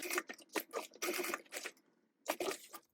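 Sewing machine with a smooth presser foot and smooth feed dogs stitching a notepad cover, quick bursts of rapid mechanical needle clatter separated by short pauses, close and fairly loud, with no voices.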